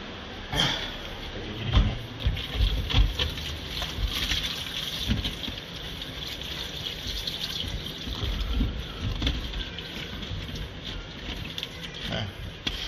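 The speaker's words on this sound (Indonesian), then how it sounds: "ini hanya sekedar dibilas menggunakan air agar basah dan terhindar dari debu" Leaves are rinsed under clean running water, a continuous splashing patter with uneven bursts as the water hits them.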